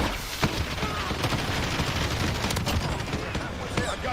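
Rapid bursts of automatic gunfire and explosions crackle continuously during a Call of Duty Warzone match, dense and loud throughout with little pause.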